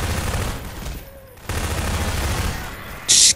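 Gunfire from armed zombies in Half-Life 2, a dense stretch of rapid shots with a short lull midway and a sharp high-pitched blip near the end, loud and close.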